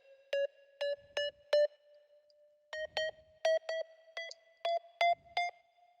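A home-made synth riser for an EDM track, made of clusters of short bright bleeps repeating in rhythmic groups over a steady sustained tone, each burst with a faint low thump, heard alone.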